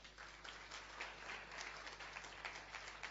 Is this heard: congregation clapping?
yes